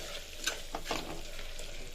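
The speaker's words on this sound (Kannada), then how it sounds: "ಸೊ ಇದು ಫ್ರೈ ಆಗ್ತಿದೆ." A masala paste of onion, tomato and fenugreek leaves fries in a pan with a soft, steady sizzle, punctuated by a few brief stirring scrapes, quiet and close with no talking.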